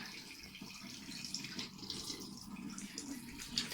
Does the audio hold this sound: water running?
yes